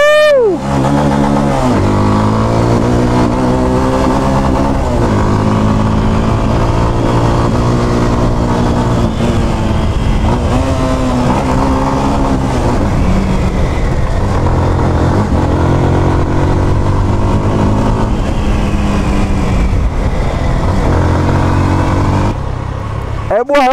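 A Jamco T 200 motorcycle engine revs hard while riding, rising and falling through gears with loud, close, continuous engine roar and repeated throttle surges.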